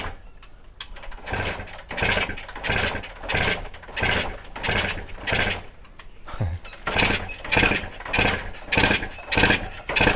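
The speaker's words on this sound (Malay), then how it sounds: "Dia memang susah hidup sebab minyak dekat dalam crankcase tu dah penuh" A Kawasaki RR motorcycle engine with an oil-flooded crankcase cranks repeatedly in a steady rhythm, sputtering and failing to catch, with a faint rattle between attempts.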